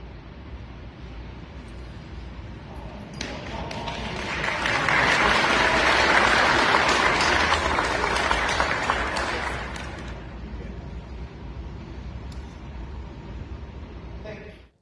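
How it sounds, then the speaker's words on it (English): Applause from an audience in a played-back clip from a pup club gathering swells to a loud wash of clapping midway, then fades back to a murmur of room noise. "Why are they clapping?"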